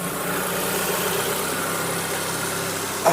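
A quad bike engine idles steadily while warming up, a close, even rumble with a constant hum that holds unchanged throughout and ends in a brief knock.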